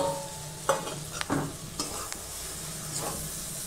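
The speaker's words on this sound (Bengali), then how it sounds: "এখন আমি আলুগুলো এর মধ্যে দিয়ে দেবো।" Fried potatoes go into a pan of cooked-down spiced masala, giving a few scraping stirs and soft bursts of sizzling, close and alone without talk.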